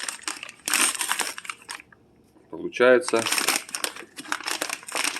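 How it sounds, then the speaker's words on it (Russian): Crinkly plastic bag wrapping a pressed-paper firewood log for a fireplace is torn open, with loud bursts of crumpling and crackling close up between stretches of someone talking. "Одно бревно в таком пакетике. Я сам первый раз вот это открываю"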